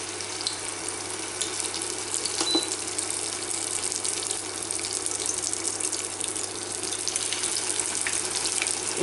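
Samosas sizzle as they are lowered into hot frying oil, a steady, dense crackling hiss that holds evenly and fairly close throughout, with a few brief louder pops.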